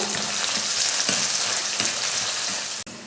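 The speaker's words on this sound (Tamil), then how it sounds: "சேர்த்து இதை நல்லா வதக்கிடுவோம்" Sliced onion, dried red chillies and curry leaves sautéing in a pan, a loud dense crackling sizzle with a few spatula strokes, ending in an abrupt cut.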